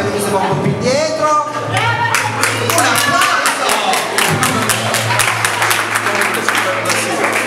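An audience at a Halloween night show claps, building into steady, close applause after a moment of speech and continuing throughout.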